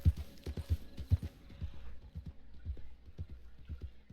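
Rhythmic hoofbeats of a galloping horse in the video game Red Dead Online, close and punchy at first, then settling into a steady quicker pattern.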